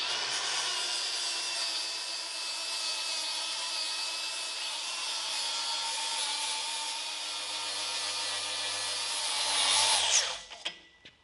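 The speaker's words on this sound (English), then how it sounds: "I'm gonna go ahead and take the flapper wheel to the square tube" A flap wheel on a grinder scours the surface of a steel square tube before welding, a loud sustained high-pitched whine held nearly ten seconds before the tool spins down and stops.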